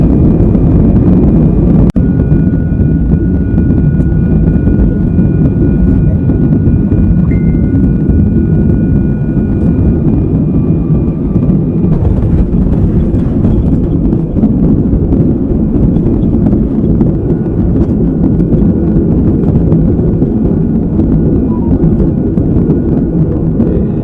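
Inside a Lion Air passenger plane landing at Surabaya, a loud, steady low roar of engines and airflow fills the cabin without pause, with faint whines above it.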